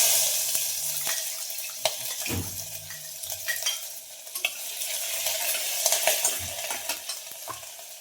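Chopped green chillies and ginger-garlic paste hit a hot pan with curry leaves, giving a close sizzle broken by sharp stirring clicks and scrapes of a spoon against the metal, no talk.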